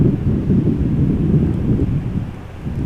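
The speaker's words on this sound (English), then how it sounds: "Wind has picked up." Gusty wind at Amsterdam Schiphol Airport rumbles loudly and continuously against the microphone, a dense low buffeting roar that swells and eases slightly with no voices present.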